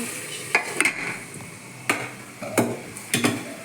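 Chicken curry frying in a pan, soft steady sizzle under a series of sharp spoon scrapes and clinks against the metal at irregular intervals, no voices.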